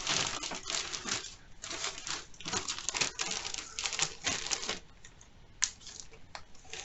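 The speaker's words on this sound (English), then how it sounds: "you put it into a plastic bag like this one" A resealable plastic bag crinkles and rustles in bursts as it is handled close by while packing a wet museum book, with irregular crackling and a sharper snap near the end.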